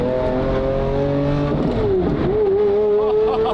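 A Lamborghini Murcielago GT1 race car engine roars loud and close from inside the car, holding a steady tone, dipping briefly, then revving back up with mechanical whine.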